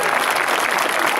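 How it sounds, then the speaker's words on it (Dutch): A crowd claps loudly and continuously at the closing day of a dance school's 60th anniversary celebration; the full, even applause carries throughout. "Voor Anneke graag een daverend applaus."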